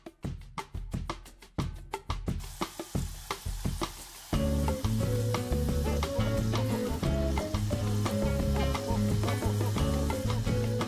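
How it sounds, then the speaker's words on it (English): Mochi donuts (Pon de Ring style) fry in hot oil, a steady crackling sizzle that fills the scene after a run of sharp taps, continuing unbroken and fairly close with no talking. "Fry our donut right with the pepper so it doesn't fall apart. Fry for 3 minutes."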